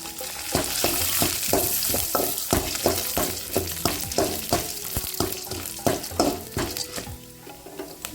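Onion and lentils fry in a pan, a steady sizzle punctuated by a rapid series of scraping, tapping strokes of a spatula stirring close by.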